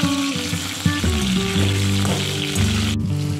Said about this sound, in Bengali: মাছ দুটো ভাজা হয়ে গেছে আর দেখো কপিটাও ভাজা হয়ে গেছে